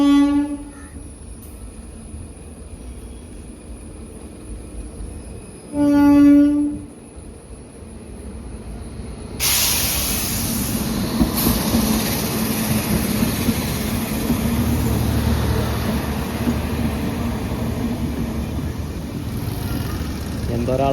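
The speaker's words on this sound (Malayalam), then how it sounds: "ട്രെയിൻ വരുന്നുണ്ട്." A train passes on a rail line along a forest route, its horn sounding in steady tones early on before the loud rumble and rattle of wagons rolls by close and continuous; no talk is heard.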